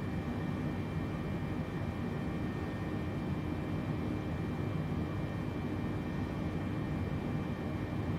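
Steady, broadband jet roar from a Boeing 747-8 flown as Air Force One in Microsoft Flight Simulator, rumbling continuously and loud throughout with no voices over it.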